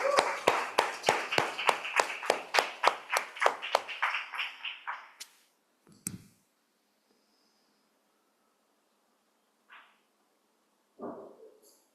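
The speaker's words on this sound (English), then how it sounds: "give a huge, huge round of applause for our Toastmaster of the day, Bright Heart Siddharth Jain." Audience applause for a Toastmaster at a pre-charter club meeting: dense, steady clapping for about five seconds that fades out, then a few isolated faint sounds in a quiet room.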